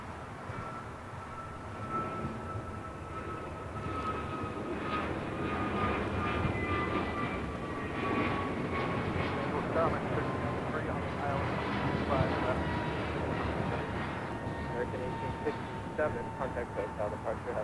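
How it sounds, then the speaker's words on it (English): An American Airlines Airbus A321neo jet takes off at LAX, its engines giving a broad, sustained roar that holds steady and slowly swells over many seconds at a moderate distance, with faint voices in the background. "American Airlines 1857 taking off to Charlotte on an A321neo"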